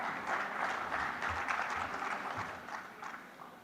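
A conference audience at a sustainability summit applauds to welcome a speaker to the stage, a steady wash of many hands clapping that holds evenly and fades slightly toward the end.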